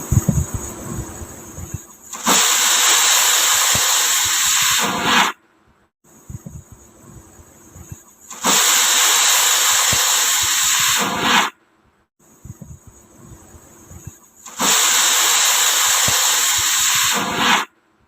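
A pressure cooker with rice and dal vents steam in three long, loud hissing bursts of a few seconds each, separated by quieter gaps with faint kitchen sounds.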